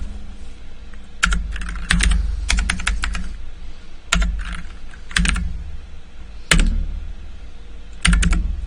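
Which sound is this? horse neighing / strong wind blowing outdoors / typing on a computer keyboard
typing on a computer keyboard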